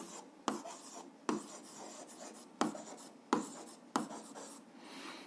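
Pen writing out an algebra solution on paper, a close, quiet scratching with a few sharp taps as strokes begin, steady and unhurried, with no talking.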